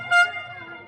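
A horn hoots briefly at a rugby match, a bright tone rising above the crowd ambience before fading into a lingering hum.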